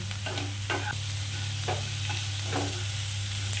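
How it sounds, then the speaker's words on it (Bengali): Chilli powder fries in a pan for a prawn and poppy-seed dish, a constant close sizzle broken by several scraping stirs of a spatula, with a low steady hum beneath. "ভাজবো"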